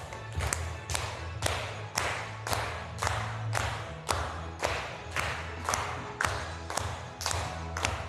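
Children in a classroom clap their hands together in a steady, regular rhythm, about a dozen evenly spaced group claps, moderately loud and close with a faint background hum.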